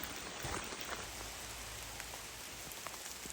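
Steady rain patters down on a surface, a soft continuous hiss of drops heard alone and fairly quiet.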